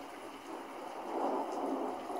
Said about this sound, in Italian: Il cielo si è fatto nuvoloso,